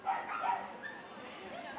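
Dogs bark and yip at a dog agility demo during an animal expo, several quick barks at moderate distance under a person talking over the scene.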